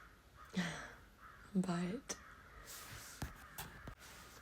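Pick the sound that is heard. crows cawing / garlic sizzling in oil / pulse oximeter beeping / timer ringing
crows cawing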